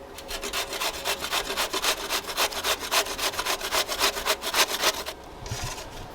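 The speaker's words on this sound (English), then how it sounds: "I'm gonna grate one medium or small zucchini" A medium or small zucchini is rubbed by hand across a grater for meatballs, making steady, close rasping strokes in a quick, even rhythm for about five seconds before it stops. No one speaks.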